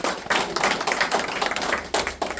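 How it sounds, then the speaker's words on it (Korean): Audience clapping at a union officer election campaign rally in Daegu, a fairly close, irregular patter of hand claps with sharp taps and a low hum beneath. "힘찬 박수 부탁드리겠습니다."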